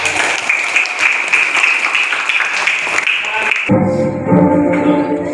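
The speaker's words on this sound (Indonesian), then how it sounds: "Tepuk tangan." Audience applause at a university teacher-training class session in Makassar: dense, steady clapping from a room full of people for nearly four seconds, then cutting off as a tonal, music-like sound takes over.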